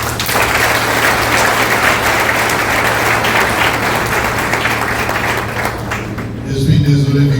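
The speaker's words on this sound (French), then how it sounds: "je vous demande d'applaudir à l'honneur" Audience applause at a memorial gathering honoring the dead, a dense, steady wave of clapping from a crowd lasting several seconds before fading out near the end.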